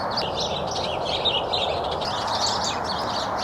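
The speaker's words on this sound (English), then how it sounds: "A few noisy birds in the tree next door" Noisy birds in a neighbouring garden tree chirp continuously in a busy, overlapping chatter, moderately near, over a steady outdoor background hiss.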